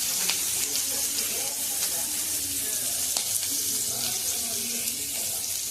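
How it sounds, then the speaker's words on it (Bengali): Onions with garlic sizzle steadily in a hot pan while being cooked for katla kalia, a continuous close frying hiss with faint scraping, no talk. "পেঁয়াজ দিলাম,"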